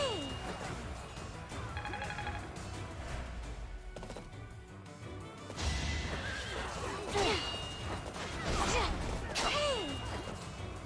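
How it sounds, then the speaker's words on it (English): Enemy horses in the Fire Emblem: Three Houses video game whinny and neigh in several rising and falling calls, with hoof clops and clashing battle hits mixed in, moderately loud over game sound. "It's just a tangle of enemy horses over here."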